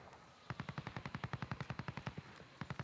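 Rapid automatic gunfire from Call of Duty Resurgence, an even string of about twenty sharp shots at a quick rhythm, a short pause, then a few more, moderately distant.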